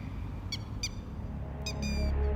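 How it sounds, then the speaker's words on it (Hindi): Bird chirps ring out in short bursts in a jungle, a few separate calls over a low steady rumble of background noise. "पर यहाँ सिर्फ चिड़ियों की चहचहाहट"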